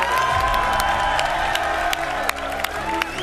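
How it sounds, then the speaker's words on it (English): An audience at an Xbox fan event cheers and applauds, a dense crowd roar with scattered sharp claps and whoops, fairly loud and sustained for a few seconds. "Can we get a round of applause for Stig, everyone?"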